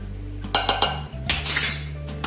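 A metal teaspoon clinks against a container in several quick, bright taps while garlic powder goes into a sauce, followed by a louder scraping clatter, close and alone.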